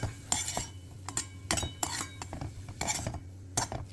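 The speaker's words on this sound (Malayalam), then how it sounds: "നന്നായിട്ടൊന്ന് ഇളക്കി യോജിപ്പിച്ച് വെക്കുക." Kashmiri chilli powder is stirred into radish leaf sabzi. Close, rhythmic scrapes and metallic clinks of a spoon against the pan come in quick bursts.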